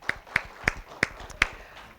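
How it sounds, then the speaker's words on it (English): Five sharp, evenly spaced hand claps ring out in a classroom-style group session, close and distinct over a faint room hum, with no talking. "Let's give them a round of applause"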